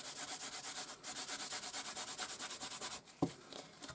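Repeated rhythmic rubbing strokes of cloth or applicator over heat-embossed card with distress oxide ink, close and steady, ending with a brief knock and a few lighter scuffs.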